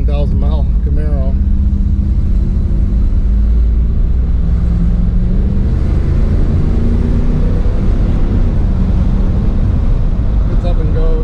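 Low-mileage 1990 Chevrolet Camaro IROC-Z being driven: a steady, loud engine and road rumble from inside the car, the pitch shifting gently as it cruises and accelerates, with brief talk near the start.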